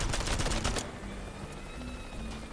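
A rapid burst of video game gunshots in Worms WMD rattles out in quick succession in the first second, then gives way to quieter background game sound.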